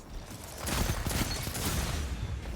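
Rapid SMG fire in the video game Destiny, a short continuous burst of close, loud shots rattling for about two seconds with no talking.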